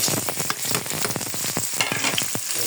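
Beef and white onion sizzle and crackle in a thin pan, with dense steady frying hiss and repeated scraping stir strokes throughout, close and fairly loud.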